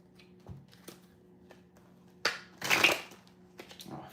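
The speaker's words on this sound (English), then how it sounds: "I feel like I'm just not shuffling this damn deck." A tarot card deck is shuffled by hand in a quiet room, with soft scattered taps and one louder riffling burst toward the end.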